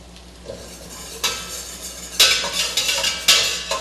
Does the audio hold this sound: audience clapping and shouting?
no